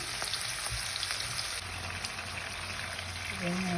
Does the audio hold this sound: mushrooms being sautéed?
yes